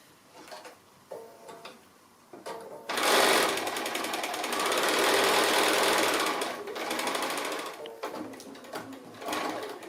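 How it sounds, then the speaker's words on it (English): Sewing machine top-stitching fabric for a Christmas dinner crown, quiet tapping at first, then a fast rattling stitch run lasting several seconds, easing into shorter bursts with small pauses. "So I'll just go ahead and just start stitching."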